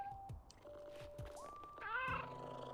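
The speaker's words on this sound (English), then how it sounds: "Let's put the kitties. Oh, their sounds they make are so cute." Cartoonish cat meows from the video game PowerWash Simulator 2, a few short, cute calls with a rising whine near the end, clear and close over quiet game background.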